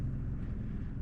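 A generator runs steadily through a winterization check, its low, even engine drone continuous and fairly close with no talk over it.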